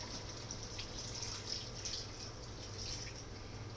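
Water pours steadily into a pot of browned meat and vegetables for a Hungarian braised beef or game dish, a soft continuous splashing trickle that stays even throughout.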